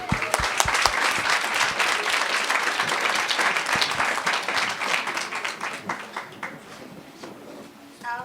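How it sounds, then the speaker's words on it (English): A room full of people applauding steadily at a book launch, dense clapping that holds for several seconds before gradually thinning out. "Can we have a round of applause for Charmaine?"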